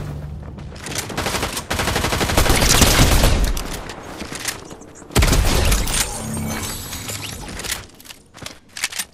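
Bursts of rapid gunfire in the Fortnite video game, loud overlapping automatic fire and single shots crackling in dense volleys, pausing briefly then resuming and trailing off into scattered shots.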